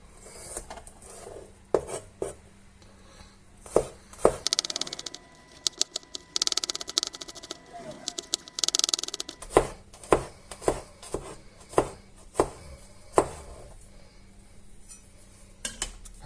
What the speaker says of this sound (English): we'll start this off by very finely chopping up the garlic